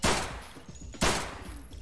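Two loud, close gunshots in the game Escape From Tarkov, about a second apart, each followed by a short decaying echo, with no talk.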